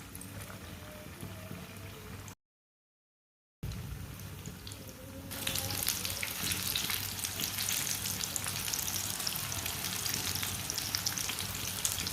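A spoonful of batter dropped into hot oil, giving a steady frying sizzle that swells louder and denser partway through after a short gap of silence, close and continuous with no talk.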